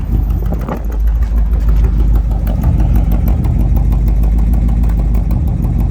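Engine idling on a 1955 Ford Fairlane Crown Victoria with its 272 V8 and stainless steel ceramic mufflers, a steady, loud, low rumbling burble that carries on without a break.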